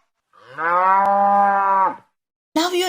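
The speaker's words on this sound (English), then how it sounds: "Cows give us milk. And their sound, we say," A cow gives one long, loud, clear moo lasting over a second, close by and tonal, followed after a short pause by the start of another bovine call.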